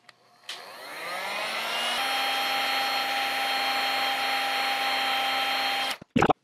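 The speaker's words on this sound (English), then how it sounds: "So that's the setting that I want on this particular heat gun." A heat gun on its low, cool setting heating a Telecaster-style guitar headstock during finishing: a steady, loud blower roar with motor whine switches on, holds for several seconds, then cuts off with a couple of brief clunks at the end.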